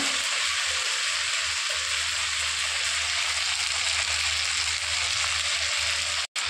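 Ground spices, including ginger, cumin, chilli paste and turmeric powder, sautéing in a pan with a steady, even sizzle that continues unbroken throughout, close and alone without any talk.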